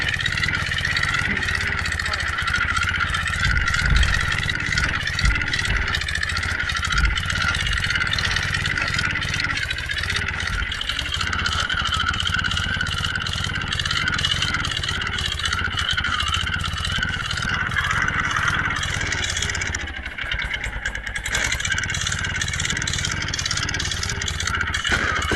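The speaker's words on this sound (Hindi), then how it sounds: "हमारे ट्रैक्टर में खींच लिए ट्रॉली, देख सकते हो आप" An old tractor's engine labours as it hauls two trolleys up a steep hill in an Indian driving simulator game, a steady mid-pitched drone with clattering, heard loud and continuous throughout.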